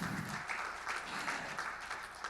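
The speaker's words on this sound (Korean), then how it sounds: "여러분 큰 박수 부탁드리겠습니다." A conference audience at an international destination competitiveness forum in 2020 applauds with a steady, fairly faint patter of clapping.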